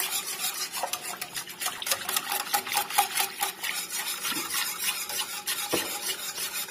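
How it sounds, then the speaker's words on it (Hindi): A spice mixture stirred into lassi with a spoon to keep lumps from forming, giving soft, continuous swishing and light clinks against the vessel, close but quiet. "इसी तरह आप इसको हिलाते जाएंगे ताकि कोई गुठली ना बने"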